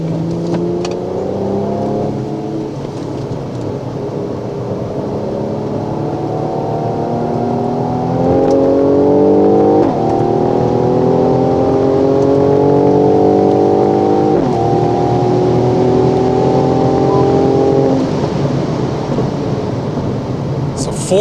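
A Mercedes-AMG C43 sedan drives on a race track, its engine revving steadily up and down through the gears with repeated shifts. The drone is loud and close throughout, and a voice can be heard over it.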